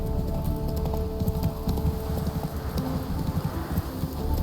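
Hooves of the horse in Witcher 3 beat out a quick, steady galloping rhythm, loud and close, running continuously over a low rumble of game ambience with no talking.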